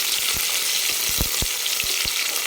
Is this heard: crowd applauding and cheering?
no